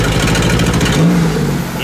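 A Buick Regal 2.0 engine, suspected of a fuel or fuel-pressure fault, revs hard as the throttle is punched, giving a loud, close, rough roar that climbs briefly and then eases off.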